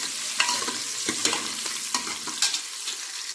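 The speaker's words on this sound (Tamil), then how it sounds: "நல்லா வதக்கி விடலாம்." Onions sizzle and fry in a pan for a country chicken curry, with steady crackling and repeated scraping stirs of a spoon every half second or so, close and fairly loud, no talk.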